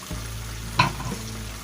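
Albaik chicken frying in a covered pan, heard as a low, steady muffled sizzle with one brief louder clink midway.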